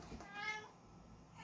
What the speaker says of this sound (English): That's my cat, guys. He gets loud sometimes.